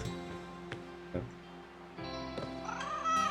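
A cat meows in the video game Broken Roads, a few short calls spread over a few seconds amid game music and ambience.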